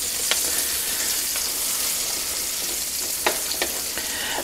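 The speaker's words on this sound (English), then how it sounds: "And then once these are sauteed," Garlic cloves sautéing in a pan give a steady, close sizzle, broken by a few sharp clicks and taps of a utensil.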